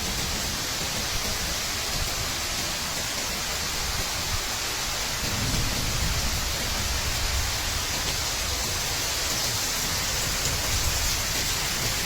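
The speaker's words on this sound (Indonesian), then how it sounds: "Arus air cukup deras dan membahayakan pengguna jalan" Floodwater from the overflowing Kuningan river in Cirebon rushes in a strong, constant roar of turbulent water, loud and unbroken for the whole stretch, with no talking.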